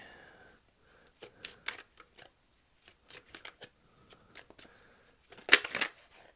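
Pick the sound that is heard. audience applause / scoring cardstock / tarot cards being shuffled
tarot cards being shuffled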